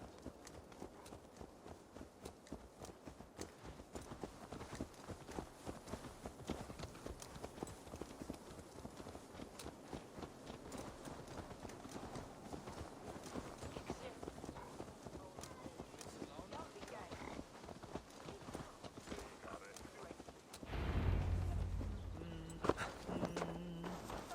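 Horse hooves clip-clop in a steady walking rhythm in Assassin's Creed Valhalla, fairly close, while voices talk over the top before a louder thump near the end.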